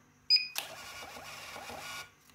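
A mini printer on a 3-in-1 DC 30A mini fuel-pump CPU board prints a receipt: a short beep, then a steady buzzing, whirring print run of about a second and a half that stops abruptly. It is close and moderately loud, with no talk.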